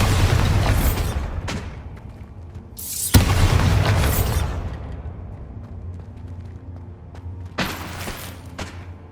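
Spell explosions from Confringo and Bombarda casts in Hogwarts Legacy, a few loud booming bursts with crackling debris tails, spaced a few seconds apart over a low rumbling game backdrop.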